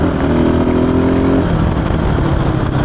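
A Husqvarna FE 450 Rally motorcycle engine revs loud and close, a steady droning note that climbs, then breaks into a rougher throaty roar at speed with wind noise.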